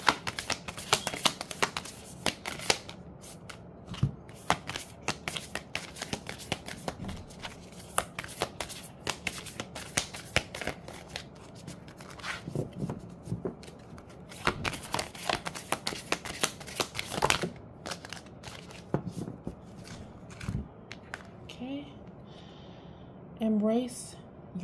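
Large oracle cards are shuffled over and over in rapid riffling bursts with soft papery slaps. A voice murmurs faintly underneath, and a brief sigh-like sound closes the passage.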